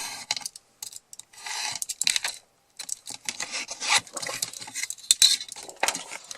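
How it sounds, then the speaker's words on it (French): Cardboard being cut with scissors or a cutter for a DIY pizza box, a series of close, crisp snips and scraping cuts in irregular bursts with short pauses, no talking. "maintenant on va couper au ciseau, au cutter, au massicot"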